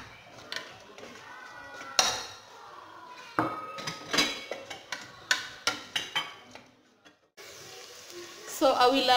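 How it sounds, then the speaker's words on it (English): Onions cooking in a hot pan while tilapia is prepared in garlic and soup, with sharp clinks and scrapes of a utensil against the pan, a burst of rapid taps, and a soft sizzle rising at the end. "I will allow the onions to cook a little bit before I add my garlic"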